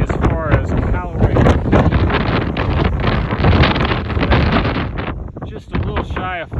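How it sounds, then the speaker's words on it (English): Strong gusting mountain wind buffets the microphone in loud, roaring bursts, with a person talking underneath the blustery noise. "It is an extremely windy day today."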